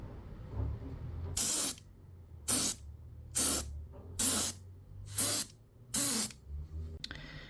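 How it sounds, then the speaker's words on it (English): Six short, evenly spaced bursts of chrome spray paint from an aerosol can onto a 1/18 scale Chevrolet model police car, each a sharp close hiss of about half a second with quiet gaps between. "to spray this chrome paint on, you have to do it very lightly and careful"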